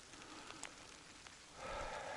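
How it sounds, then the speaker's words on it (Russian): Rain falling in a forest during a hunting trip, a soft steady patter that swells louder toward the end, distant and faint with no one speaking. "Начался дождь"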